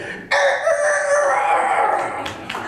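On stage at a talent contest, a human voice mimics a young rooster's crow, one long strained call that wavers and cracks before trailing off, close and loud.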